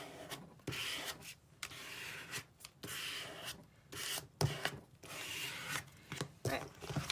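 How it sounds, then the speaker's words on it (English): Paper glued onto a Halloween card is firmly rubbed down by hand, a series of close, soft scratchy strokes with short pauses between them. "Give that a good rub down."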